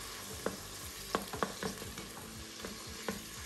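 Thin slices of ginger fry and sizzle steadily in a pan, with several sharp scraping knocks from stirring cutting through the close, continuous crackle.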